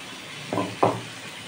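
Water from a blender jar is poured into tomatoes frying in a pan, bringing two quick, close hissing sizzle bursts about a third of a second apart over low background noise.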